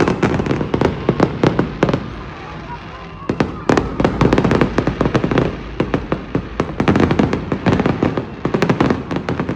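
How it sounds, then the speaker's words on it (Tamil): New Year fireworks explode over Nairobi, Kenya, in a dense, continuous barrage of sharp cracks and booms, loud and close, with voices talking underneath. "இந்த ஃபயர் ஒர்க்ஸை நீங்கள் கேட்டுட்டு எப்படி இருக்குன்னு கமெண்ட்டில் சொல்லுங்கள்"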